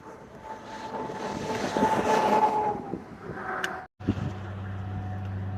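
Steady roar of passing traffic on Interstate 44 in Oklahoma, heard from up on a roadside vantage, swelling as a heavy truck rushes by, then a low engine drone after a brief dropout.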